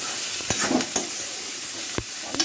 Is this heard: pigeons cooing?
no